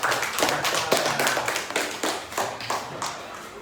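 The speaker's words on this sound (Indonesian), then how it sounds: "beri tepuk tangan dulu dong" Elementary school pupils in a classroom clap together in a lively, slightly uneven burst of hand claps, fairly close and loud, keeping a quick rhythm for a few seconds before tapering off.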